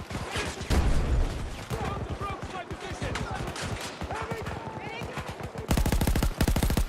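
Rapid automatic gunfire in Battlefield 2042, dense close bursts of shots rattling throughout, ending in a louder sustained volley, with voices talking over the shooting.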